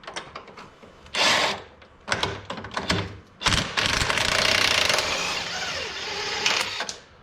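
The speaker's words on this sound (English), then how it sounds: "I'm just going to use a crescent wrench." A crescent wrench works a bolt on an aftermarket ATV trailing arm, producing loud close metallic clicks, scrapes and grinding bursts in uneven spurts, with no talking.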